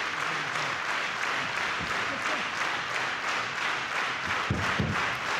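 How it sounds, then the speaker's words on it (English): Wrestling crowd applauding and cheering inside Korakuen Hall during a pro wrestling match, a steady broadband roar of clapping that holds for the whole stretch, with a few louder bursts near the end. "The crowd here in Korakuen Hall, loving this."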